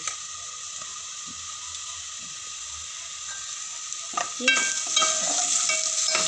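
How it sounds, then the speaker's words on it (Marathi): Tomatoes frying in a pan with ginger-garlic paste: a steady bright sizzle with occasional stirring clicks, then a sharper burst of crackling and scraping as the mix is stirred, close and fairly loud. "आपण त्यात टाकणार टोमॅटो"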